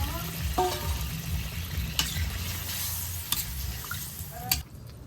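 A curry sizzles in a pan as broth is added, with spoon scrapes and clanks against the pan at intervals over a continuous bubbling fry.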